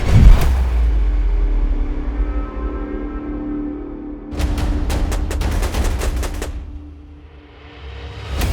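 A rapid burst of gunfire, a string of sharp shots in quick succession, loud against a rumbling background, preceded by a single early blast.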